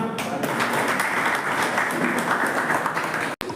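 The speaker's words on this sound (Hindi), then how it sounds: "भाई, तालियां।" An audience at a training camp in Indore gives a steady, dense round of applause at moderate loudness that breaks off abruptly near the end.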